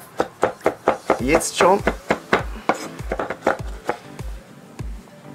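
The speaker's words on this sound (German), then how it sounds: "Nehmen wir unsere Steinpilze und hacken sie einfach grob durch." Porcini mushrooms being coarsely chopped with a knife on a board, a rapid series of sharp thudding chops in an uneven rhythm, close by, with a voice speaking briefly over them.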